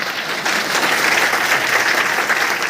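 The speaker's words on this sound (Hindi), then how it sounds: "कभी ताली बजाइए।" Continuous crowd clapping at an indoor meeting program in Basti, a thick, even burst of applause from many hands, close and loud throughout.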